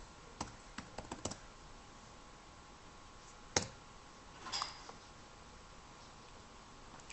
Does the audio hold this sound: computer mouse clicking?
yes